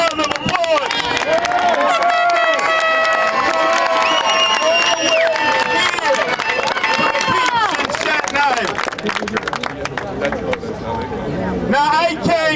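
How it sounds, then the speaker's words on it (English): Large protest crowd outside a proposed migrant shelter in Staten Island, New York City, cheering and clapping loudly and continuously at night, with shouts rising over the dense applause and voices mixed throughout. "Let's give a great round of applause."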